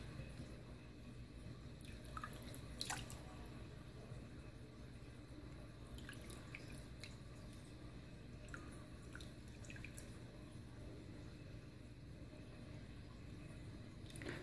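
Faint, scattered plops and drips of water gel beads falling into water, a few at a time over a quiet, steady background hiss.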